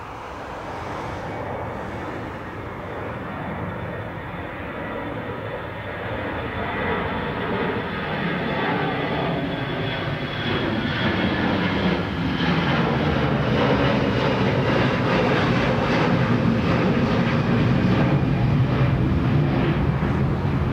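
A KLM airliner takes off from runway 28 right at Dublin Airport, its engine roar building steadily louder over twenty seconds with a rising, swirling whine and no voices.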